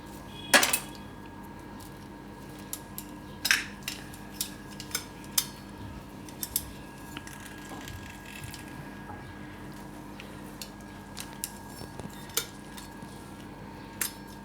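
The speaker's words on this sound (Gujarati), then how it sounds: "આ બધું આપણે મિક્સ કરી લેવું" Jamun seeds are mixed with salt, turmeric and lemon juice for a Gujarati mukhwas, producing sparse, sharp metallic clinks and scrapes of a spoon against a bowl, close and scattered over a quiet background.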